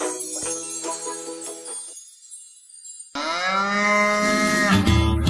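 A cow moos in long, drawn-out calls within a children's song, a first low call fading to quiet before a second louder, richer moo swells up close.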